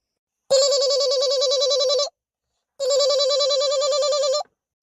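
Telephone ringing in an Awadhi cartoon comedy, two long electronic trilling rings separated by a short pause, loud and clear with no talk.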